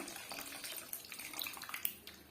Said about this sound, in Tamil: இப்ப நம்ம கரைச்சி எடுத்துட்டு வந்த புளி கரைசல இதோட சேர்த்து விட்டுடலாம்